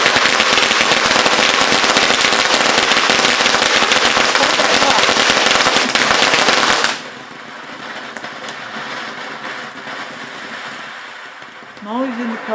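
A loud, dense barrage of crackling firecrackers pops continuously for several seconds, then stops abruptly, leaving a quieter background with faint voices.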